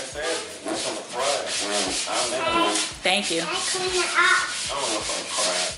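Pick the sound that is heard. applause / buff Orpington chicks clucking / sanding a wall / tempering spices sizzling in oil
sanding a wall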